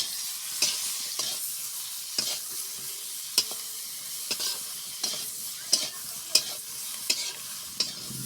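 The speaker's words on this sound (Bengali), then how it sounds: "দেখুন ভাজা চলছে।" Cauliflower and vegetables fry in a pan while being stirred, a steady soft sizzle broken by repeated sharp scraping clicks of the spatula, close and fairly quiet, with no talking.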